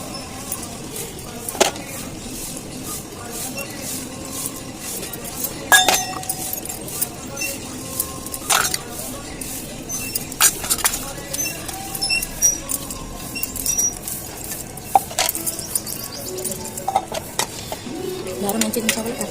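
Spoons and bowls being washed at home, with scattered sharp clinks and clatters of utensils knocking together at an irregular pace, heard close over a low background while a person talks.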